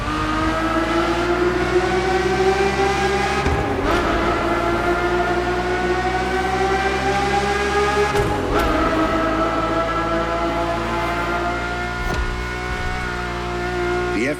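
A Ferrari F50's naturally aspirated V12, shown in The Crew Motorfest, screams at high revs with a steady layered howl, dipping briefly at a few gear changes, loud and sustained throughout.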